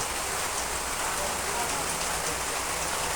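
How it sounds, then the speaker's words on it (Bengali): Heavy rain pours down in a dense, unbroken hiss of drops striking surfaces, steady and loud throughout with no talk. "আজকে আমাদের এখানে অনেক বৃষ্টি হচ্ছে"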